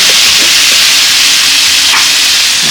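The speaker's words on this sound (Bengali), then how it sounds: "এই যে আমি আলু ভাজা বসাই দিয়েছি বন্ধুরা" Potatoes fry in a hot pan with a loud, continuous sizzling hiss that stays steady and close, with no one speaking.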